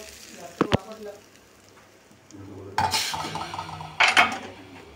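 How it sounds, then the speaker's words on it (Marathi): Hot tempering of mustard seeds, cumin and curry leaves poured from a small pan over appe batter, giving a loud sizzling burst near the end after quieter kitchen clatter and a couple of sharp utensil knocks. "हा तडका याच्यावर सोडून घ्यायचा आहे।"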